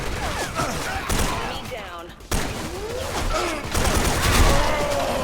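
Rapid bursts of K2 rifle fire ring out in the Special Force 2 shooting game, dense crackling volleys with brief pauses, loud and close, while someone talks over the gunfire.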